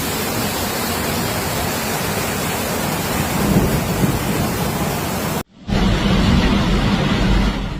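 Heavy rain pours steadily during a thunderstorm, with thunder rumbling underneath, a dense continuous roar that cuts out for a split second and then resumes just as loud.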